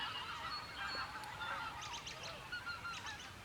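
Birds call on public land during a turkey bow hunt without a blind: faint, rapid clusters of honking yelps rise above a steady outdoor hiss, distant and with no talk.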